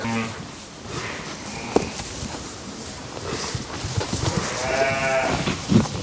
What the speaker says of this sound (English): Now you'll see sheep with lambs in here.